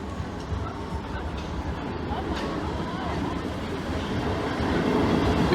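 A train passes over the Lincoln High Street level crossing as a steady, rumbling roll with faint wheel clatter that builds slightly toward the end, under a voice talking.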